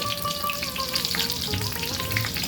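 Cut potato, beans and eggplant fry with crushed garlic and spices in a pan, giving a close, steady sizzle that crackles continuously throughout.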